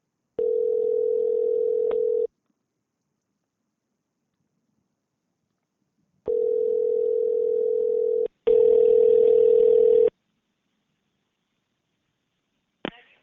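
A telephone line carries a steady electronic tone during a call transfer, sounding in several long stretches separated by silence, with one burst noticeably harsher and louder, then a brief click near the end.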